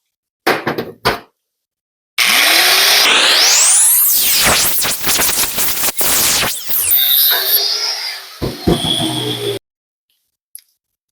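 A power tool cuts into a BMW E30 steering knuckle, a loud sustained whine that rises and dips as the blade bites, preceded by a few short bursts and separated by abrupt pauses, with a faint tap at the end.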